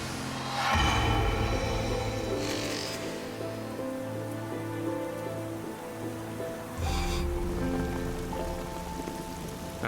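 Steady heavy rain pours onto a mountain ledge, a dense continuous hiss of drops striking rock, swelling louder just after the start and again near the end, with no voices.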